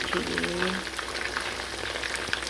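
Chicken pieces fry steadily in hot oil for chili garlic chicken, a dense, even sizzle holding at close range throughout, with a brief tonal scrape near the start and a faint knock toward the end.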